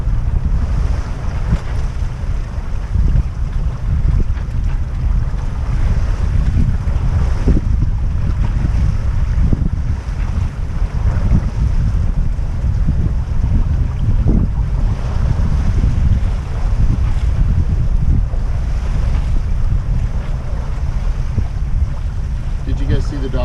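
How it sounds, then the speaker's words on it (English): A 1989 Hunter 40 Legend sailboat under sail, with steady loud wind buffeting the microphone and waves washing against the hull throughout, a continuous dense rush with no clear speech. "I think we're just going to keep sailing and not even worry about port in"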